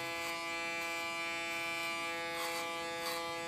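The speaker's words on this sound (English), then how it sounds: "Use my clipper as a comb." An electric hair clipper buzzes steadily and close during a haircut, its constant motorized hum running unbroken with only slight shifts as it trims hair.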